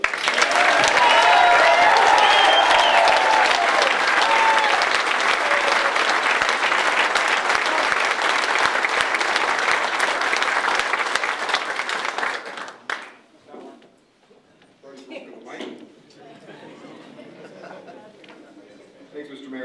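Hockey crowd in an arena at a Calgary Flames event gives loud, sustained applause for about twelve seconds, then it abruptly drops away, leaving faint scattered claps and murmurs.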